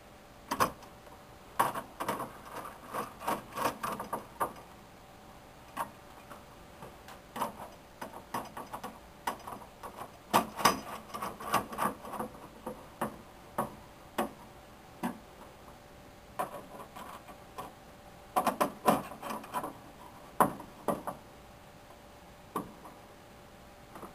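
Bolts hand-spun into a cheap-threaded flat screen TV and wall mount give a run of small metallic ticks and clicks in irregular bursts, close and fairly quiet, with no talking.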